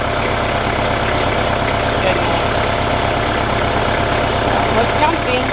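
Tractor engine idling nearby, a loud steady low rumble with a fine regular chug that holds evenly throughout, faint voices and small sounds over it.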